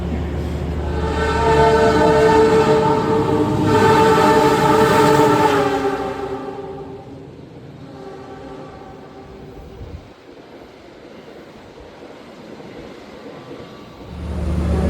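A passenger train on the Jogja–Malang route pulls away after being overtaken by the Sancaka express. A loud, droning horn sounds for several seconds, then the rolling rumble of the carriages continues and swells again at the end.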